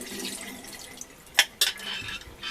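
Rinse water drained from a bowl of Japanese rice, the tenth of many rinses: a short watery splash and trickle with two brief louder gushes near the middle, close up and alone.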